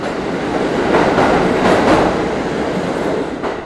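A New York subway train rumbles steadily and loudly close by, a dense continuous roar of wheels on rails with faint clatter, swelling slightly midway and easing toward the end, with no voices.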